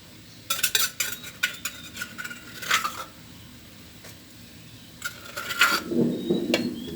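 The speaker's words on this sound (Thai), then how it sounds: "สามชั้นรวนไว้แล้วครับผัดกะเพราครับผม" Pork belly with holy basil, dried chilli and garlic is stir-fried in a pan: a metal spatula clinks and scrapes in short irregular bursts, then a soft sizzle swells toward the end, with no speech.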